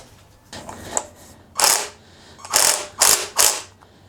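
Ratchet tightening a bolt on a blown engine of a 2006 R53 Mini Cooper S during a teardown: a few bursts of quick clicking pawl strokes in separate pulls, close and clear with no talk.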